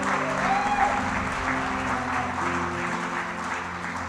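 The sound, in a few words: congregation applauding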